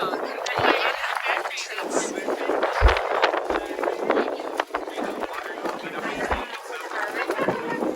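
Wind gusting across an outdoor Christmas farmers market in a city park, rumbling and buffeting the microphone while people chat nearby throughout.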